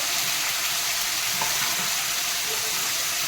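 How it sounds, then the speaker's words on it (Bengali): Tomato paste, onion paste and spices sautéing in a pan for a Bengali fish curry, a steady broadband sizzle and fry hiss filling the clip with faint stirring, no voices. "এটা একটু ভালো করে কষাতে হবে"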